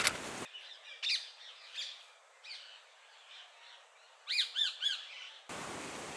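Birds call in a forest, ring-necked parakeet among them, with faint scattered chirps and a brief burst of sharper calls near the end. Louder wideband noise opens and closes the stretch.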